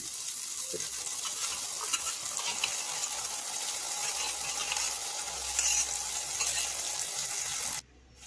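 A spiced yogurt mixture with coriander, cumin powder, garam masala, pepper and chaat masala, added to a pan for restaurant-style paneer masala, sizzles loudly and steadily while being stirred, then cuts off abruptly near the end.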